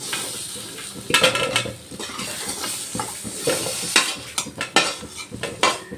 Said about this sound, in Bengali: এবার আমি আলুগুলো তুলে নিচ্ছি